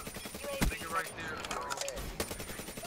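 Gunfire crackles in a Call of Duty match on the Nuketown map, with rapid bursts of shots over a busy, noisy mix and voices under it.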